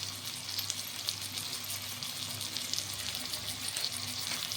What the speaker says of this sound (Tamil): நான் எண்ணெய் கூட போட்டு வதக்கிடுவேன்